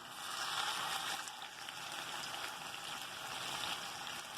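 A salmon fillet sizzles in hot oil in a pan, a soft, continuous crackling hiss holding at a steady low level throughout.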